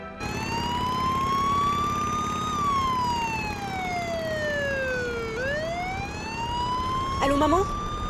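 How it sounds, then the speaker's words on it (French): A police siren wails loud and close, sweeping slowly down and back up in long steady tones, with a brief burst of whoops near the end. "Oui, ce sont les sirènes de la police."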